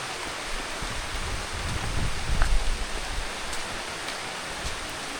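Steady broadband rain falls continuously with a soft hiss and no voices, swelling slightly in the middle before settling back to an even wash over a vegetable plot.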